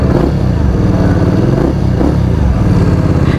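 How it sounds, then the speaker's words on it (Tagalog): A Benda Napoleon Bob 450 V-twin bobber motorcycle idles and revs loudly up close, its thumping engine pulsing with throttle blips throughout. "Let's give it up for a Napoleon Bob 450 by Benda Motorcycles"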